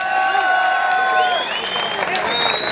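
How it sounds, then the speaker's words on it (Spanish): Crowd applause at a rural bull-riding tournament as spectators vote for a winning team, steady clapping and cheering under whistling tones and a voice over the loudspeaker. "dígaselo con un aplauso"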